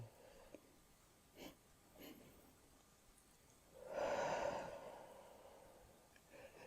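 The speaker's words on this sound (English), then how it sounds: "And breathe out from your mouth." Paced breathing exercise with slow breaths in and out, including a long, loud exhale through the mouth in the middle and fainter breaths before it, close and without speech.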